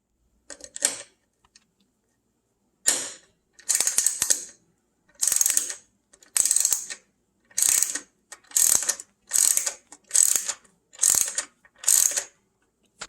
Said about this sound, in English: this one here is just a 10mm bolt that comes off quite easily